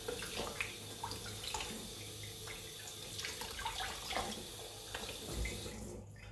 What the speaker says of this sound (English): take some cold water and just rinse the soap off